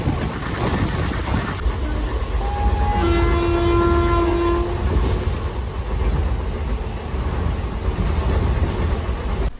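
A passenger train pulling into a station sounds a long, loud horn blast over the steady rumble and clatter of the rolling cars, heard up close with no talking.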